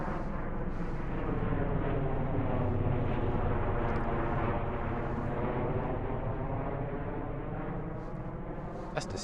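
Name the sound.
airplane flying overhead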